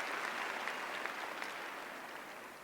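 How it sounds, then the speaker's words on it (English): Steady applause from a university commencement audience, dense clapping filling the room at an even level for a few seconds, fading slightly near the end. "Let's give them a round of applause as well."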